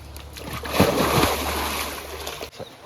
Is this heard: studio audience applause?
no